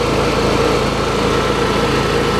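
A Honda EU7000iS inverter generator runs steadily at close range, giving a smooth, even engine hum with a low vibrating drone that stays at constant loudness throughout, with no voices.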